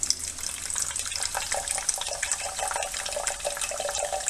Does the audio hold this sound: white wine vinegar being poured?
yes